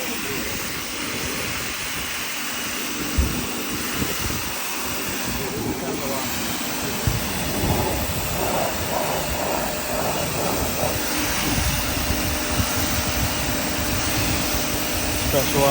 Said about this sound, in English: Pressure washing the other side.